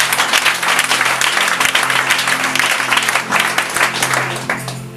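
A church congregation claps and cheers in praise, a dense, loud wave of applause with voices mixed in that fades slightly toward the end.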